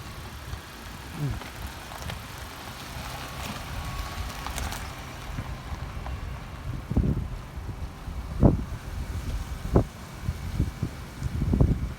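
A vehicle engine is left running outdoors, a low steady idle rumble under gusty wind noise, with several short louder bumps and thumps rising above it near the end; no speech.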